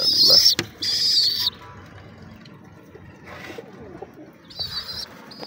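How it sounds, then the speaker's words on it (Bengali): Sirazi pigeons at a home pigeon farm, with soft low cooing murmurs running under a few loud high chirping bursts at the start and near the end; no talking. "সিরাজি কবুতর"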